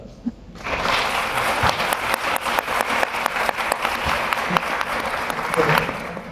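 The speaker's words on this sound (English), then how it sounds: "One more round of applause." An audience claps after a film screening in Richmond, a sharp single clap leading into steady, fairly loud applause from a crowd in a hall that holds for several seconds.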